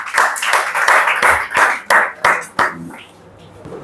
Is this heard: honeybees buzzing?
no